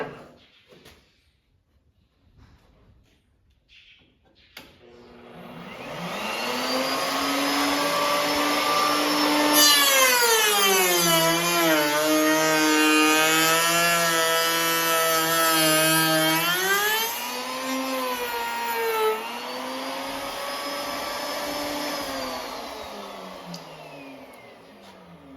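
A powered sander takes a wooden edge down: the motor spins up to a loud, steady whine, holds for about fifteen seconds while its pitch dips and rises under load, then winds down, close and without talk.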